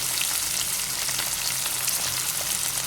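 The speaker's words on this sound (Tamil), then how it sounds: "நல்லா அந்த எண்ணெய் இதோடு சேர்ந்து கத்திரிக்காய் வதங்கும் போது கத்திரிக்காய் நல்லா டேஸ்ட்டாக இருக்கும்" Eggplant sautéing in hot oil in a pan while cooking a curry gives a steady, dense sizzle and crackle that runs without pause, with no talking.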